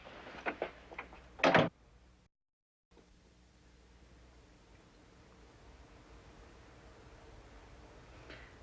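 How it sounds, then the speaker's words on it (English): A door is shut indoors: a few quick knocks and clicks, then a sharp, broader thud, followed by a moment of silence and a low, quiet room hiss. "Close the door."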